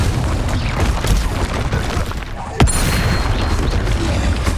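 Confringo blasting-spell explosions in Hogwarts Legacy: dense, rumbling booms and crackling bursts with one sharp blast about midway, all loud and close amid ongoing game noise.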